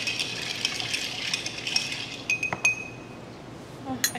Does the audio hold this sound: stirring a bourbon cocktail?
yes